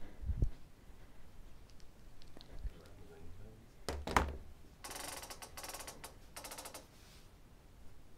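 A ratcheting quilting frame clicks in short bursts as the quilt back is rolled onto the rail, with a few knocks before a run of rapid close mechanical clicks.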